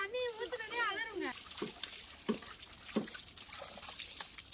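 Water is poured over kids in hot weather, splashing and splattering in several uneven bursts near the listener. A voice talks at the start, and the splashes go on over a light background hiss.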